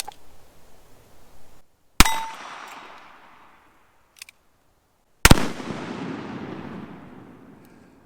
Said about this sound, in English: Let's shoot the Firebird target on the steel.